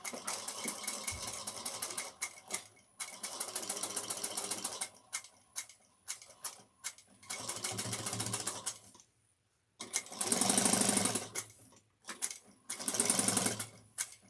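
A sewing machine stitches a 3/8-inch seam, with backstitching, along the curved edge of a slouch shoulder bag. It runs in steady, close bursts of a few seconds each, separated by short pauses.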